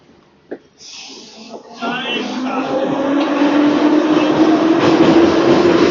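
A metro train runs inside a city subway, heard from within the carriage, rising from quiet to a loud, steady rumble with a rising whine and rattling as it gathers speed.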